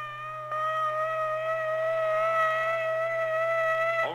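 A civil defense air raid warning siren wails steadily and loudly as a single sustained tone, rising in at the start and holding without a break through the whole stretch.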